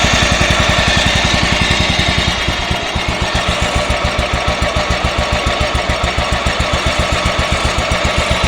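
A Yardman 15 hp riding lawn mower with a 42-inch deck idles close by, its engine chugging in a fast, even, loud beat throughout with no talking.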